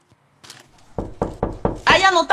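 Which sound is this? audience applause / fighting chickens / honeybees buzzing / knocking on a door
knocking on a door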